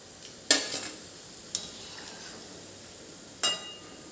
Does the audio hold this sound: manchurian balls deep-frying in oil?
yes